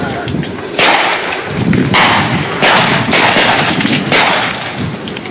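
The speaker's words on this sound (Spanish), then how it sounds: "A tiros de la manifestación, y no son balas de fogueo." Live ammunition fired at a street protest, several sharp loud cracks spaced about a second apart, each trailing into a noisy burst, with voices mixed in throughout.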